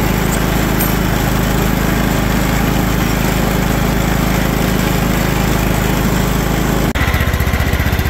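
A John Deere LT160 automatic lawn tractor engine idles steadily, a loud continuous near drone with a hum that holds evenly before shifting to a rougher, pulsing tone near the end.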